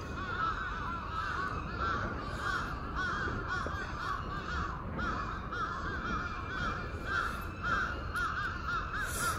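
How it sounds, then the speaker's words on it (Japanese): Crows caw repeatedly and loudly on a harbor quay at Otaru Kitahama during sabiki fishing, their calls continuous and close over steady outdoor background noise. "やかましいなカラス。"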